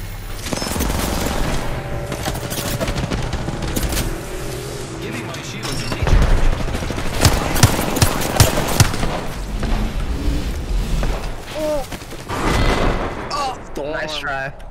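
Dense video-game gunfire fills the scene, with rapid bursts, single cracks and booming blasts overlapping in a loud, chaotic firefight, and voices mixed in at times.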